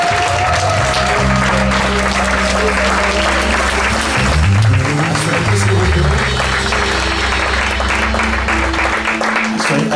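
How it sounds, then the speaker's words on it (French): Church convention audience applauding and cheering: steady, loud, sustained clapping from a large crowd with voices and music mixed in underneath throughout. "Est-ce qu'on peut l'acclamer?"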